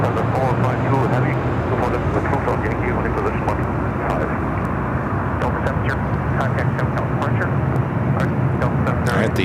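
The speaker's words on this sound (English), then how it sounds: "Next arrival is Southwest Airlines Flight 1600 coming from Reno, a" A Southwest Airlines Boeing 737-700 arriving at LAX, its engines giving a steady broadband roar that holds evenly loud throughout, with voices talking over it.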